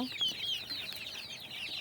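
Desi (native) chickens clucking and chirping close by on a farm, a steady busy cackle from several birds with no talking.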